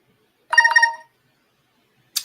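A mobile phone gives one short tonal ringtone burst of about half a second, clear and close against silence, followed by a brief hissy click near the end.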